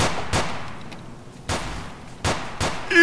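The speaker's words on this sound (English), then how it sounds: "We're getting shot at." Video-game gunfire: four sharp, loud shots crack out at irregular intervals, each decaying quickly against a quiet background, with a brief tonal blip at the very end.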